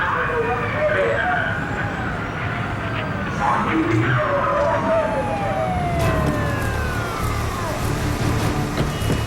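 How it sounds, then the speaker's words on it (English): Police sirens wail continuously with rising and falling tones, loud and steady amid traffic and crowd noise. "Sirens are screaming"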